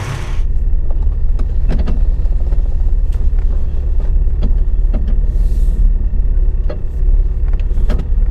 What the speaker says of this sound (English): Well, here we are in the Blazer, driving it.